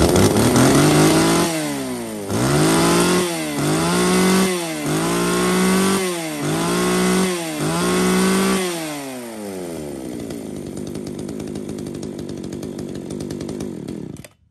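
A Komatsu chainsaw engine runs close and loud, revved up and down about six times in regular swells before settling into a steady, quieter idle.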